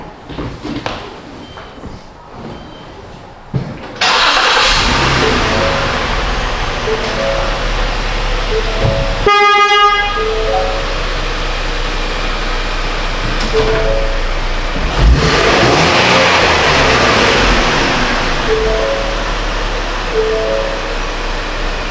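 A Ford Explorer's engine runs steadily with a broad rushing exhaust noise after a flex pipe repair, swelling briefly as it revs and then settling into a loud, even roar.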